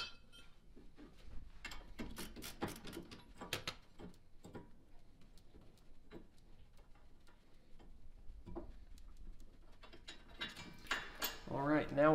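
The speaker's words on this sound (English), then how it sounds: "put your wrench inside that piping, and then this gives you a lot more leverage to be able to loosen those really tight bolts" A wrench with pipe extension working tight brake bracket bolts loose on a 1999-2006 Chevrolet Suburban front brake, giving clustered metallic clicks and ratcheting taps over low background rumble, louder toward the end.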